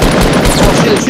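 Fortnite gunfire as a loud, continuous burst of rapid shots filling a brief moment, with no talk.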